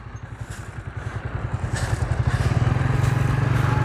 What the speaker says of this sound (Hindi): ये दोबारा आ गया जी ट्रैक्टर यहाँ पर